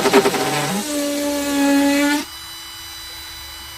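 A Parkside cordless drill whirs in short bursts into oak and maple, its pitch steady and then dropping as it bites, close by with no talking.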